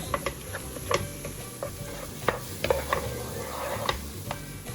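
Onions and red pepper paste being stirred in a hot pan for potato gözleme filling, with a steady sizzle and scattered light clicks of a spoon against the pan.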